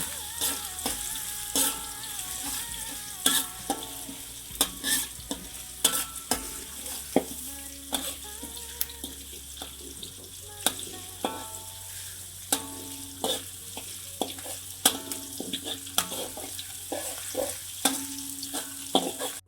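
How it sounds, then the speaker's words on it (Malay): Onion and ginger sizzle steadily in a wok while a utensil scrapes and clatters against the metal in frequent irregular strokes, up close. "Kita tumis ni ataupun kita goreng sehingga dia wangi."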